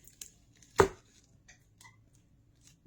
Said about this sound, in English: chop my onion